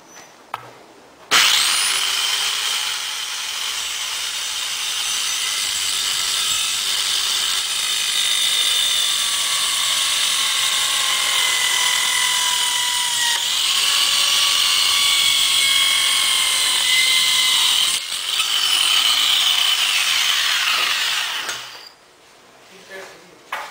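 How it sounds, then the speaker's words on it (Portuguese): DWT MC500 multi-cut saw cutting wood containing screws or nails, a loud, close, sustained high whine that starts abruptly, holds for about twenty seconds with slight pitch shifts, then cuts off. "Cortando madeira com parafuso ou prego."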